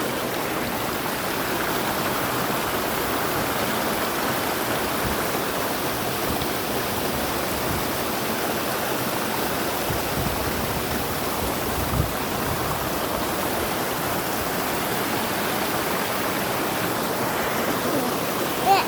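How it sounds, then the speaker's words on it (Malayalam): A seasonal rain-fed waterfall roars in a dense, unbroken wash of falling water heard from close by, steady and loud for the whole stretch with no voices over it. "ഞാനിപ്പോൾ വെള്ളച്ചാട്ടം കാണിച്ചു തരാം."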